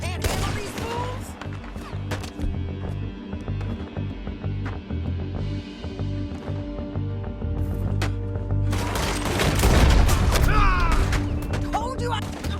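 Gunfire in a shootout near the cops in Red Dead Redemption 2 crackles as scattered shots and thuds over music and game chatter, building to a louder cluster of blasts toward the end.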